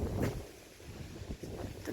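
Outdoor wind blusters across a rural home's yard, rumbling low against the microphone in steady gusts that swell and ease, with no speech.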